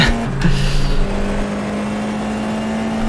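Formula 4 iR-04 race car in the iRacing sim at Oulton Park, a steady engine drone holding one pitch with a brief shift or blip early on, loud and alone with no talk.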